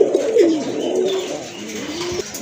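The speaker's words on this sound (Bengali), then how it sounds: "এক জোড়া গিরিবাজ কবুতর আছে, খুবই চমৎকার কালার, সাইজ কিন্তু অনেক বড় আছে, দেখার মতো কিন্তু ডাকতেছে।" A pair of large Giribaj pigeons cooing close by, a low warbling coo repeated steadily and fairly loud.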